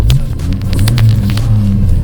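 A Volkswagen Golf Mk II with a modified exhaust and steel wheels gives a loud, steady, deep rumble up close, holding an even low drone throughout with no one speaking.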